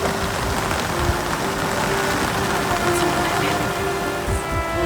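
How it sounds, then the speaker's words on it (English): Steady, loud wind and heavy rain lash outdoors during a cyclone, a continuous dense roar with drumming drops and no pauses, filling the whole stretch. "so it's just a lot of wind and rain now"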